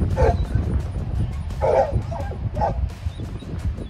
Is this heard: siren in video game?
no